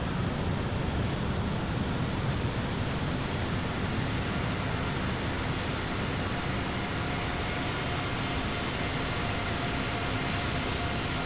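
Massive jet engines of a large airliner in a flight simulator game produce a steady, broad roaring hiss with a faint whine, even and unbroken, moderately loud and alone.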